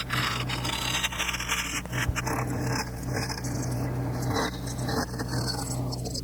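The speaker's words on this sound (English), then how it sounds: "I'm going to flatten out this end and create a tenon." A rasp scrapes a wood and resin piece to round and flatten it, producing dense, continuous rubbing strokes up close that carry on steadily without a voice.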